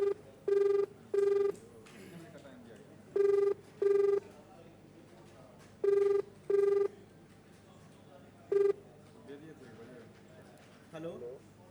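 Outgoing ringback tone on a phone line after a call is dialed, repeating in regular paired pulses with short gaps, clear and steady with a faint hiss beneath.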